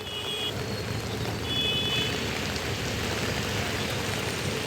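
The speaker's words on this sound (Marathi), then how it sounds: "आज सकाळपासून पुन्हा एकदा पावसानं जोरदार हजेरी लावलेली आहे" Steady, heavy rain in Mumbai hisses evenly throughout, with faint vehicle beeps sounding briefly in the background.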